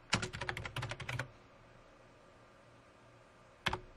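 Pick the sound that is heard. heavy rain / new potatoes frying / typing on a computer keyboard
typing on a computer keyboard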